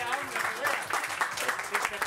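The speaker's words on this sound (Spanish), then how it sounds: "¡Un aplauso!" Audience applause in a conference hall at a Campus Party event, dense steady clapping from a crowd at moderate volume throughout.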